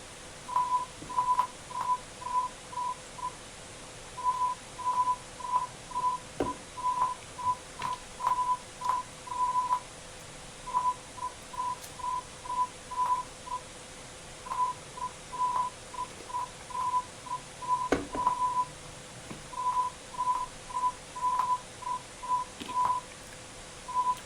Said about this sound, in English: that sounds more like Morse now